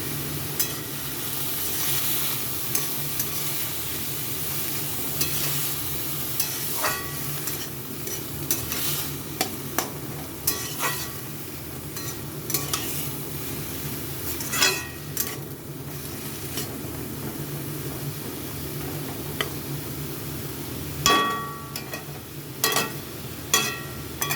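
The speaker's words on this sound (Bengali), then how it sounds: "এটা এখন অনেক টাইম দিয়ে ভাজতে হবে।" Banana stem stir-frying with turmeric and green chilli in a pan, a soft steady sizzle under intermittent scraping and stirring strokes of a spatula, with a few sharper clinks, fairly quiet and without talk.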